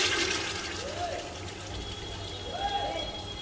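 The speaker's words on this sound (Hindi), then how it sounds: "जो ये हमने यखनी बनाई थी मैं इसी को इसमें डालूंगी।" Mutton stock (yakhni) is poured into a cooking pot for mutton paya, a liquid gurgle and splash with rising filling tones, fairly close, under a speaking voice.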